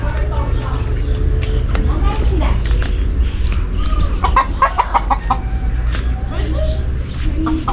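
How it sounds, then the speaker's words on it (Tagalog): Chickens cluck and cackle in short bursts around a home yard, close and fairly loud, under a person talking over a steady low background hum. "may nangingitlog dyan ng manok"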